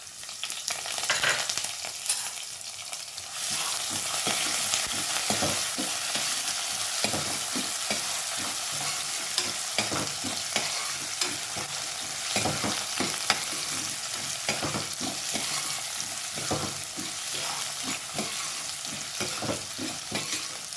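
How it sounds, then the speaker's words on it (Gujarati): White urad dal and chana dal sauté in hot oil with curry leaves for a baingan masala rice, giving a steady, loud sizzle and crackle broken by frequent scraping stirs close by, with no talk. "અડદની સફેદ દાળ છે 1 ટીસ્પૂન, એને પણ સાતળીશું।"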